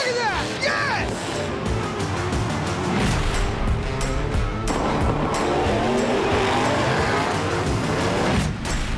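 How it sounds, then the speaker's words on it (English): Monster truck at a Monster Jam event, with loud roaring engine, tire squeals and thudding impacts blending into a dense, constant arena din as an announcer talks over it. "A monster truck was just in orbit."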